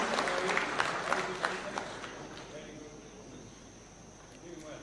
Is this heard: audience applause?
yes